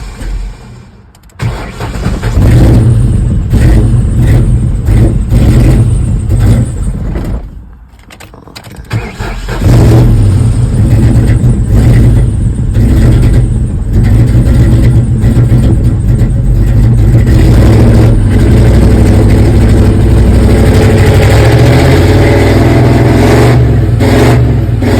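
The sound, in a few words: 2004 Ford Mustang GT engine revving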